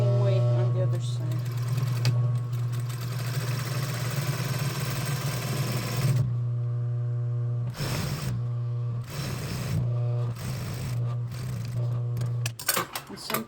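A sewing machine stitching a dress seam runs in a steady, close, buzzing hum for several seconds, then in shorter bursts with brief pauses, with a voice talking over it.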